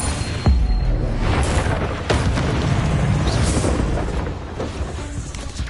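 Incendio fire spell cast in Hogwarts Legacy, a dense roaring burst of flame that blooms loud and close and keeps rumbling through the whole stretch, with sharp crackling pops layered on top.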